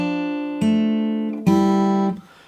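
Fingerstyle acoustic guitar plays the opening bar of a film theme: a held note, then two plucked attacks that ring out clearly and fade, solo and close.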